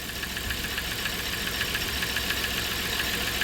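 A 1997 Dodge Caravan engine idles while misfiring on five cylinders, giving a steady, loud mechanical drone with a faint uneven pulse and no voices over it.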